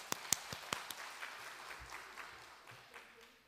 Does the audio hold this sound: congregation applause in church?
yes